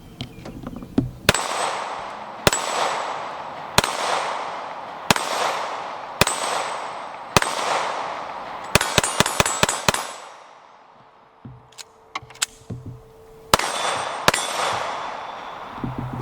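Smith & Wesson M&P 2.0 9mm polymer pistol fired outdoors: six evenly spaced single shots, then a quick rapid string of about five, a short pause with faint clatter, and a few more sharp reports, loud and close.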